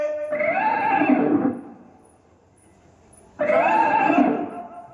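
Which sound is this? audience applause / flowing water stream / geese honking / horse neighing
horse neighing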